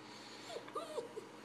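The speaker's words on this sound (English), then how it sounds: "this is Bubba, our brand new puppy" A brand new puppy gives several soft, high whimpers and yips in quick succession, close but faint over a quiet indoor background.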